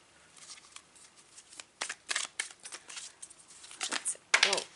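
Tarot cards are shuffled by hand in a quiet room, giving a series of soft, irregular riffling and slapping bursts that build toward a louder flurry at the end.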